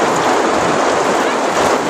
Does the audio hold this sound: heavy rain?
yes